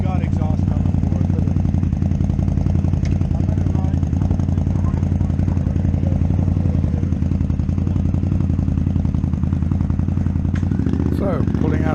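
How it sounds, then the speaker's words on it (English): An Indian Scout motorcycle with a very loud aftermarket exhaust rumbles steadily outside a dealership car park, a deep continuous idle that swells slightly near the end. "the guy in the Scout is doing a test ride on that Scout with a very loud exhaust"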